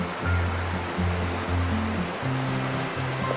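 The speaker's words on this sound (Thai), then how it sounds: "ข้างล่างมี มีน้ำตกไหลลงไปด้วยอะโคตรเจ๋ง" A constant rushing roar of a waterfall falling inside a cave, broad and enveloping, with low hollow tones layered underneath and no voices.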